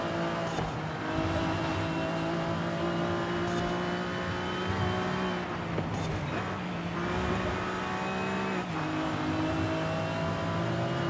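A light Le Mans-style race car in the Forza Horizon 5 video game, its engine holding a steady high-pitched drone with shifting revs and brief gear-change dips throughout, loud and continuous.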